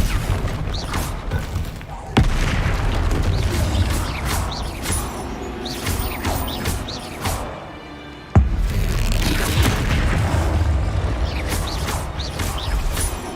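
Confringo spell explosions in the video game Hogwarts Legacy, two sharp, loud blasts cutting through a busy, continuous bed of combat and mechanical game noise.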